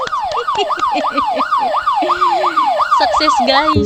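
A police siren wails in a video game, its rising-and-falling tone repeating steadily and loud, with excited voices and a short remark over it near the end.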